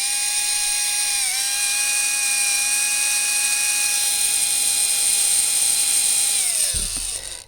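Electric motor of a restored 20-year-old Tamiya M-03L RC car spinning at high speed, a loud steady whine with a slight pitch dip early on, then winding down and cutting off near the end.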